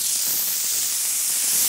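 Tuna searing on an oiled teppanyaki griddle gives a loud, continuous hiss and sizzle, steady and close, with no voices.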